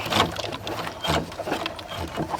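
An old, dried-out coffee pulping machine is turned by hand, giving a continuous close-up mechanical rattling and grinding with uneven surges as it rotates.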